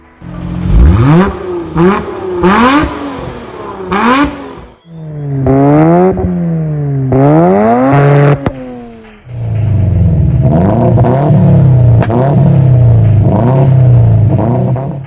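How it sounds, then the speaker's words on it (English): Several sports car engines, from a Nissan Skyline GT-R R34, Mazda RX-7 FD and Subaru Impreza WRX STI, rev hard one after another, rising and falling in pitch with loud, throaty roars, close by and with no talk. "Let's hear how these cars sound."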